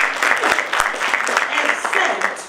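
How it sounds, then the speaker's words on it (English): Scattered audience clapping at a district road safety debate competition, a steady patter of many hands filling the room, with voices mixed in underneath. "You guys clap your hands for that."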